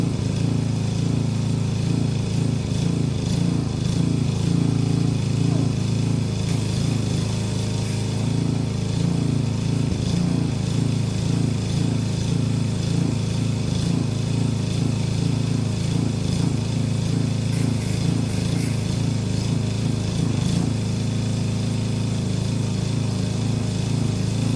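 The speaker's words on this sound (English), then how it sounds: "I'm going to set up the pressure washer." A pressure washer engine runs continuously nearby, a loud, steady mechanical chugging drone with small fluctuations in load, with no voices over it.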